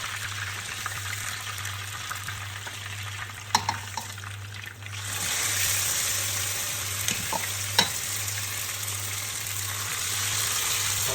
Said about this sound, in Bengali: মাছগুলো একটু ফ্রাই করে দিলাম, হালকা একটা ভাজা দিয়ে দিলাম।